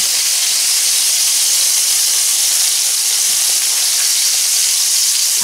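Bacon fries in melted lard in a pan, a loud, close, continuous sizzle and hiss that stays even from start to finish.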